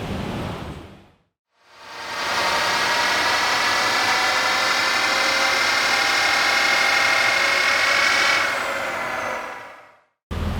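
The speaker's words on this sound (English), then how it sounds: "So we just got our dyno run done." A 2015-2019 Ford 6.7L diesel fitted with an ATS Aurora Plus 6000 compound turbo kit roars loudly on a dyno. A brief idle and pause lead into a long, sustained full-power pull that then cuts off abruptly.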